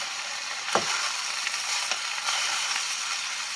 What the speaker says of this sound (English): Food popping out the pan again